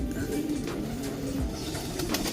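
Pigeons in a loft coo softly and repeatedly, with low burbling calls overlapping amid faint rustling and background noise.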